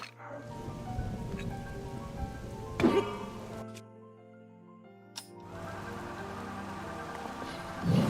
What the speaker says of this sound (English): Why did a thunderstorm have to start?